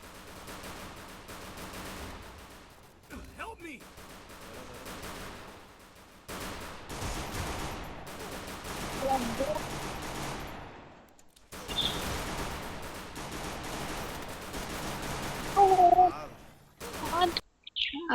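Video game gunfire in Free Fire, bursts of rapid automatic shots and single cracks scattered across the clip at moderate loudness, mixed with game effects and someone talking over much of it.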